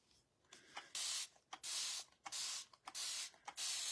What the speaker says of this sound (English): From my understanding, you just spray water in here,